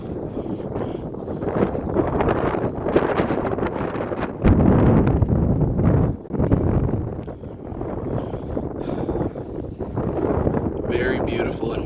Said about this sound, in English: Very beautiful and windy morning up here.